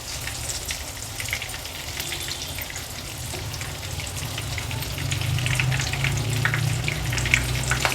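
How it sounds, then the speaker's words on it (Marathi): Prawns frying in well-heated oil give a steady, dense sizzle and crackle that swells a little louder over the final seconds, with no voices. "तेल व्यवस्थित गरम केल्यामुळे झटपट अशा आपल्या ह्या कोलंब्या एका बाजूनी तळून देखील झाल्या"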